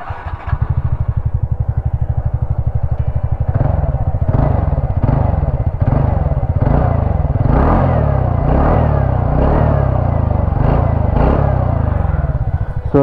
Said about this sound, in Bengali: এখন আপনাদেরকে একটু এক্সস্ট নোট শুনিয়ে দেবো আমি, এই টিভিএস ইন্টকে এক্সস্ট নোটটা কেমন